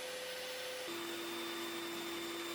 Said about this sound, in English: With the blade at full height, I can cut nearly to my line on both pieces.